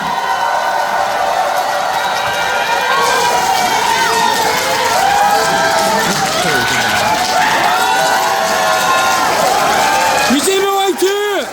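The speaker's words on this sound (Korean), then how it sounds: "뜨거운 박수로 맞아주십시오." Loud, dense applause and cheering from a large crowd at a political party rally welcoming a speaker, steady and roaring throughout, mixed with shouts, and an amplified voice cutting in near the end.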